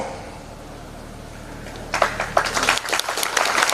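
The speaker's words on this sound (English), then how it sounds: "we should give him a round of applause." After a quiet hum, applause breaks out midway at a college inauguration ceremony, many hands clapping in a dense, steady patter that continues to the end.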